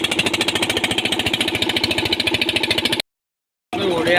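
A boat engine runs close and loud with a fast, even, thudding chug for about three seconds, cuts to silence, then starts up again.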